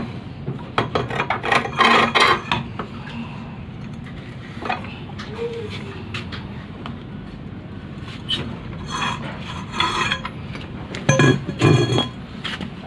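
A size 24 socket wrench extended with an iron pipe on a car wheel lug nut, metallic clinks, rattles and grinding rasps in close bursts, busiest at the start and near the end.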